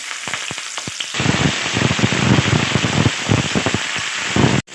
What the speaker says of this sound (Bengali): এবার ফোড়নটা ভালোভাবে ভেজে দিয়ে দিচ্ছি ফুলকপি আলুটা